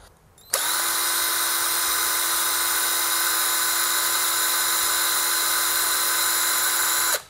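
A Power Action CIS1 cordless impact screwdriver runs at its lowest speed, starting abruptly and holding a steady, high-pitched motor whine for about seven seconds before cutting off, close and loud, no voices.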